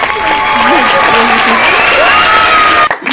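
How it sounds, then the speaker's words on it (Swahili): Loud, dense applause from a crowd gathered to honor a landlord in a comedy skit, steady clapping mixed with cheering, and a voice talking over it before it cuts off abruptly near the end. "makofi kwa mwenye nyumba kwanza"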